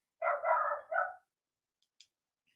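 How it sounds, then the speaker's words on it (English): A neighbor's dog barks three times in quick succession, somewhat muffled and from a short distance, followed by quiet with a faint small click. "I hear my neighbor's dog."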